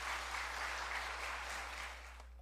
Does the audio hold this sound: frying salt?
no